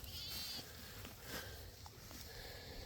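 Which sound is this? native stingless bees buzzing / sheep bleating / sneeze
sheep bleating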